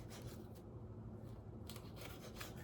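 A knife slices homegrown habanero peppers into small rings on a board, giving soft, repeated rubbing cuts at close range with no voices.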